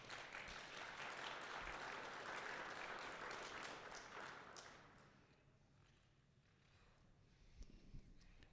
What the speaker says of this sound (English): I'd love to give my staff a round of applause tonight